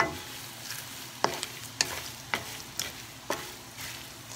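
Dried anchovies (dilis) being stirred while they fry in a pan, with about five distinct scraping strokes of the utensil rising above a steady low sizzle, close and moderately loud, with no talking.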